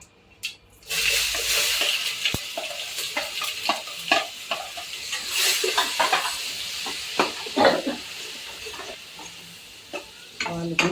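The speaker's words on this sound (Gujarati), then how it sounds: "જો આપણે વઘાર આવી ગયો છે તો ટમેટા છે એને આપણે આમાં નાખી દઈશું" Tomatoes frying in tempering oil in a pan, a close, steady sizzle with repeated clinks and scrapes of stirring.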